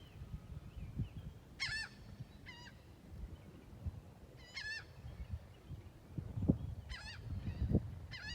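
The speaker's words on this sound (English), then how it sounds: "You can hear a bird behind me." A goose-like bird honks outdoors near water, giving several short bursts of two- or three-note honks spread out over a steady low background rumble.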